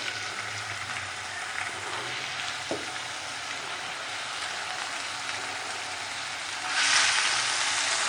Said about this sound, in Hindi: ये ज़रा शोर हो रहा है ना अदरक का